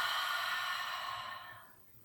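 A long, airy exhale during a Pilates core exercise, a steady, close breath that slowly fades out over about two seconds.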